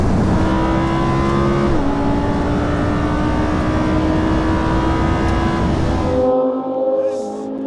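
A modified Audi RS3 with £10K of upgrades accelerating hard in a race against supercars, a loud sustained engine roar rising in pitch with a gear shift, then cutting off abruptly near the end.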